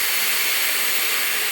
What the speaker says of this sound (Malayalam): പുളിവെള്ളം നമുക്കിതിലേക്ക് ഒഴിക്കാം.